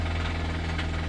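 A car engine with a failing motor idles with a steady low rumble and a fast, regular knocking pulse beneath it, heard close and continuous for a brief moment with no talking.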